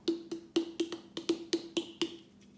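A small gourd struck in a steady series of about ten hollow, woody knocks, close and clear, each with a short resonant ring and no voices.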